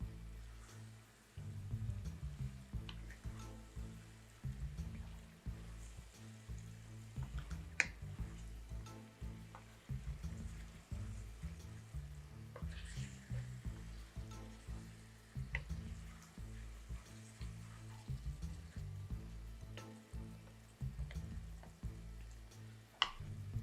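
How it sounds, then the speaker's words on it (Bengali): Broiler chicken and potatoes sautéing in a pan, a steady low frying crackle with scattered faint ticks of stirring throughout, no talking. "চার মিনিটের মতন একটু কষিয়ে নেব আমি এটাকে"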